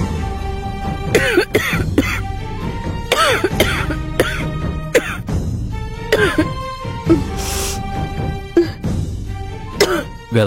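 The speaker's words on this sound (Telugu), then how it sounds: "దగ్గు ఎక్కువైందా?" A woman named Vedavathi coughs repeatedly in a Telugu TV serial scene, several harsh bursts spread across the clip over a steady music bed, close and fairly loud.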